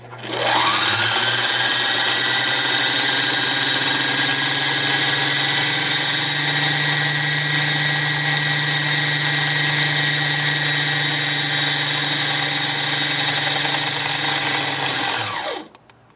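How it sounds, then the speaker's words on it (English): A domestic sewing machine winding thread onto a bobbin gives a steady, loud motor whir with a high whine, running unbroken for about fifteen seconds before winding down abruptly, with no talking. "just sort of guide it as you are winding your bobbin"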